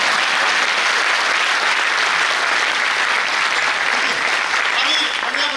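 An audience at a retail business stage event applauds in a sustained, loud, dense clapping that fills the room steadily throughout.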